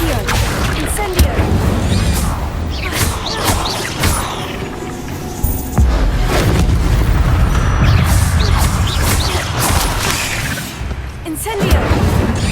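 Spell blasts of Incendio fire magic in Hogwarts Legacy, a series of loud whooshing bursts and crashing booms with shouted incantations and game effects layered throughout.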